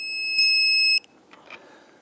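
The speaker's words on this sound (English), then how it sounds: "Let's torque down our bolt to 100 foot-pounds." A torque wrench tightens a lower control arm bolt to 100 foot-pounds on a 2000-2006 Toyota Tundra, giving a sharp, steady high-pitched electronic beep for about half a second, then a few soft clicks and handling noises.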